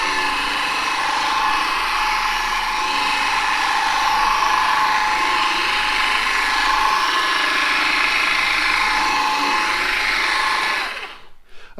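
A machine polisher whirs steadily on car paint while spreading polish over the pad, a loud, continuous close-up motor hum that cuts off abruptly at the end.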